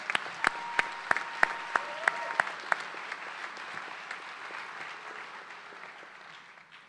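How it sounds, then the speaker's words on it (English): Applause fills a medical school commencement hall for distinguished alumni award recipients, with a few sharp, close individual claps standing out at first over a broad wash of crowd clapping that gradually fades. "Please join me in a final round of applause for our 2026 Ashbel Smith Distinguished Alumni Award recipients."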